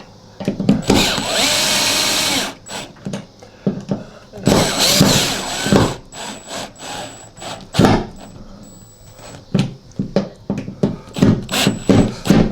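Power drill driving a set screw on a bathroom towel rack, in repeated whirring bursts of varying length, some sustained for a couple of seconds, others short trigger pulls, interspersed with clicks and handling noise.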